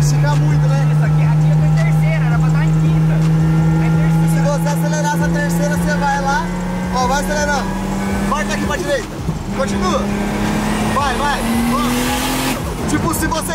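A Nissan 350Z drifting on long gears: a loud, close engine drone climbs steadily in pitch as it accelerates, dips briefly, then rises again, with voices talking over it throughout.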